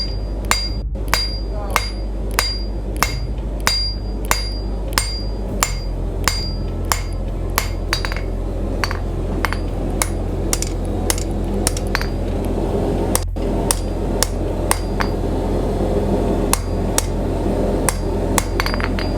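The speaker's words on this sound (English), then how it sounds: "Sam, is there any better time to do any forging?" A blacksmith hammers hot metal while forging a blade late at night, sharp ringing strikes falling in a steady rhythm, close and loud, with no talk.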